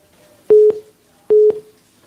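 Telephone call-disconnected tone: two identical short electronic beeps, each about a quarter second long and spaced under a second apart, loud and clean against silence.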